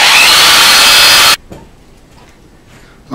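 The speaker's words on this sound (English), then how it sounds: "Now the screw just drilled its hole, and it's going in." A power drill drives a screw into wood while mounting a backdrop roller system on a wall, a loud close whirring burst that stops abruptly, followed by quiet room tone and a brief rustle.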